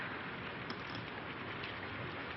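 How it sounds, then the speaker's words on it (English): Steady rain pouring down as a dense, even hiss with no breaks, fairly loud and close, with no voices over it. "It's this rain, I guess."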